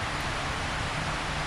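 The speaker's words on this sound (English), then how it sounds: "It's raining." Steady rain falls outside the Queen's Hotel in Bangkok, a dense, even hiss with no breaks, heard close and fairly loud with no voices.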